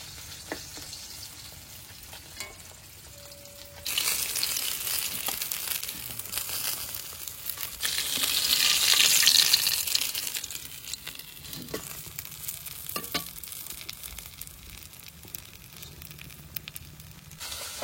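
Pieces of thick-cut river fish frying in a pan until reddish, a steady soft sizzle and crackle that swells louder for a few seconds midway, with occasional clinks, no talk.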